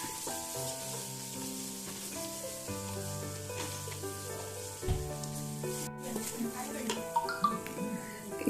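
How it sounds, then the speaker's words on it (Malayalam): Ginger, garlic and shallots sautéing in a pan for biryani, a soft continuous sizzle with stirring and utensil clinks, overlaid by background music tones. "ഓരോ ടേബിൾ സ്പൂൺ ഇഞ്ചി, വെളുത്തുള്ളി, ചെറിയുള്ളി. 1 ടേബിൾ സ്പൂൺ പറഞ്ഞാൽ 2 ടീസ്പൂണിൻ്റെ അളവാണ്. നന്നായി ഒന്ന് വഴറ്റിയെടുക്കാം."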